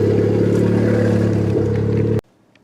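A car engine idles loud and close with a steady, throbbing drone after a JB Weld radiator repair, then cuts off abruptly, leaving near silence.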